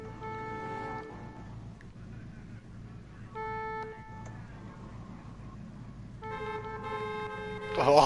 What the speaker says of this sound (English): Oh, that's a full-blown horn,